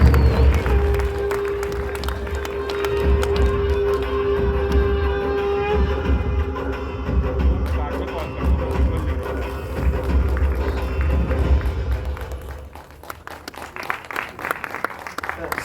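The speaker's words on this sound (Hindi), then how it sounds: "जोरदार तालियां सनी सर के लिए" At a film teaser launch, a crowd gives loud applause as an actor comes on stage. The clapping is thick and sustained, with cheering and a host talking over it, and fades near the end.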